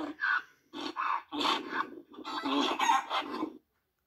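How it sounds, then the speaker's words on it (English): A chicken clucks close up in a series of loud, rhythmic bursts of squawking calls with brief pauses between them, then goes quiet. "This is a chicken."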